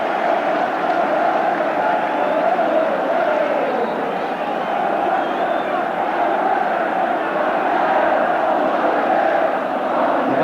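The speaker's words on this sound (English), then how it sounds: "And that's awoken the crowd from its slumbers." A football crowd roars after a Tottenham goal against Nottingham Forest. The stadium noise is broad, loud and sustained for the whole stretch, with no clear break or peak.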